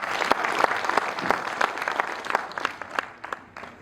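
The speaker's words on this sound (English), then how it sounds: "So give yourself a round of applause." An audience at a Catholic association's silver jubilee gathering gives a round of applause, brisk clapping that swells and then thins out toward the end.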